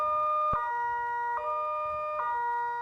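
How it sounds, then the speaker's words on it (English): Early warning siren test in Paradise, California: a steady, loud multi-tone wail holds throughout, with three faint periodic clicks or thumps beneath it and no talking. "This is a test of the Paradise early warning sirens."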